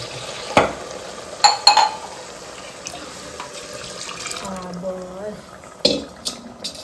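Cooked rice being mixed in a pot in a home kitchen, with scraping, stirring and a few sharp clinks of the spoon against the metal, while a voice speaks briefly.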